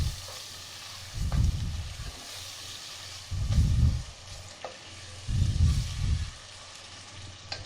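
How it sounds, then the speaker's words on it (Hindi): Tomatoes being stirred into a frying aloo matar pulao masala: three separate bursts of scraping and churning in the pan over a steady low sizzle, each lasting about a second, with quieter frying between them. "टमाटर ऐड करने के बाद आपने इसे अच्छे से मिक्स कर लेना।"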